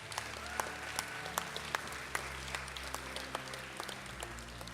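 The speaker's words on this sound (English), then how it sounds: "The battle scene, let's give them a round of applause" A crowd applauds the boys who performed a staged battle scene, producing sustained, dense clapping across a hall with occasional louder individual claps punctuating the steady wash.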